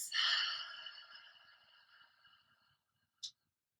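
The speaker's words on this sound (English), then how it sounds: "Breathe out through the mouth." A deep breath is let out through the mouth in a slow, airy sigh during a yin yoga session, clearest at the start and fading over about two and a half seconds, followed by a brief soft puff.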